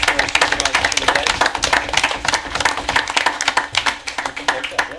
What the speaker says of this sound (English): If we get a round of applause for our supervisor for the day.